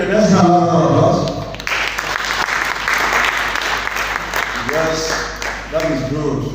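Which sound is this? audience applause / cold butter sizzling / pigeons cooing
audience applause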